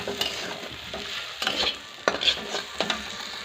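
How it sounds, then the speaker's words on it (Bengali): Okra slices fry in a pan for a home meal, with a steady low sizzle broken by several sharp scraping stirs of a spatula, close and fairly quiet. "আর ভেন্ডিটাও ভাজা হয়ে এলো"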